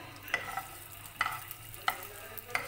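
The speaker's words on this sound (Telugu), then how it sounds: "ప్యాన్లో ఒక టీ స్పూన్ ఆయిల్ వేడెక్కిన తర్వాత మినపప్పు, ఆవాలు, ఎండుమిర్చి వేసుకొని" Urad dal, mustard seeds and dried red chillies frying in a teaspoon of hot oil, a soft low sizzle punctuated by four sharp spatula scrapes or clinks against the pan at roughly even intervals.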